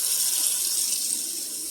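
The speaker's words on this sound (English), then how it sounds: "I always let the water run for a little bit," Water running steadily from a kitchen tap into a sink while cooking dinner, a continuous even hiss and splash close by, alone without talk.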